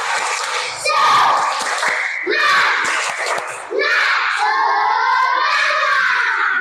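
Schoolchildren in a classroom chant and clap together in a rhythmic spirit clap, loud and close, with a teacher's voice among them and bursts of shouting between the clap sequences.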